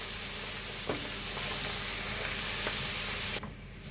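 Mushrooms with soy sauce sizzling steadily in a pan while being stirred, with a few soft scrapes of the utensil against the pan over a constant frying hiss that cuts off abruptly near the end.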